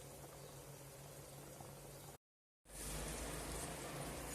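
Rice pilaf with beef heart bubbling in a pot as it cooks down, a steady dense boiling hiss that cuts out briefly and then resumes just as loud.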